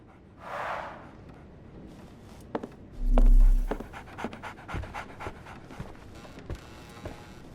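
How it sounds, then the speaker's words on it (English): A dog in the video game Sherlock Holmes The Awakened gives a short burst of breathy panting, followed by a heavy thud and scattered footsteps and knocks nearby. "So, Barnes has a dog now."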